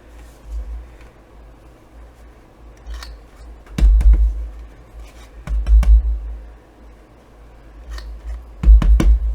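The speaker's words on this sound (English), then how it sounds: "I'm going to round these corners. So let me grab" A large corner rounder punch rounding paper corners, giving a few sharp, loud clacks at irregular intervals, some in quick pairs, with quiet handling between.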